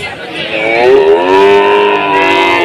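Cattle at the Tuban livestock market giving one loud, drawn-out, close moo that holds steady for a couple of seconds.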